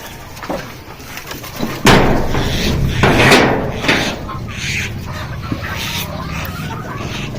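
A door on a village poultry pen is pulled shut with a solid slam, followed by a scraping slide, as chickens cluck around it on a desi poultry farm.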